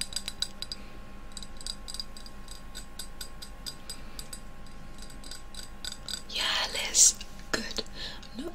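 Light tapping on a glass wand during a whispered ASMR session, heard as a run of soft, evenly spaced clicks followed by a few brushing and clinking sounds, with brief whispering.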